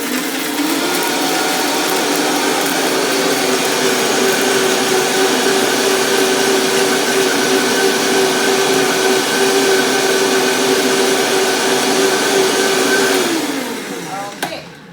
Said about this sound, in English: Now now when I blend it all up, it'll be very noisy just because this blender